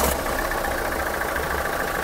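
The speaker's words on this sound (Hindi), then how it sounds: "ये हो गई भाई स्टार्ट, और पता भी नहीं चल रहा गाड़ी हो चुकी है स्टार्ट हमारी" Engine of a 2015 model used car idling after starting, a constant mid-low rumble with a faint knocking texture, steady and close with no speech.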